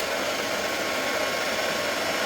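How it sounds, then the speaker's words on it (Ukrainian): A handheld hair dryer running steadily on inverter power, giving a constant loud whooshing blower hiss with an even motor whine and no change in pitch, no speech. "Фен вмикаємо без нагріву."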